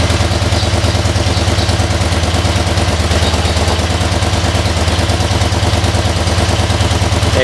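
Close, loud V4 engine idling steadily during an ignition demonstration, a continuous low throbbing with mechanical clatter running unbroken throughout, no voices over it.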